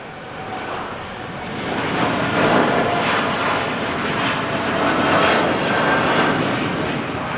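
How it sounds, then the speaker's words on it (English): A Boeing 787 Dreamliner accelerating down the runway for takeoff at Manchester Airport gives a steady, broad jet roar that swells slightly over several seconds, heard from a moderate distance with no voices. "The Dreamliner accelerates down the runway, the wings generate lift"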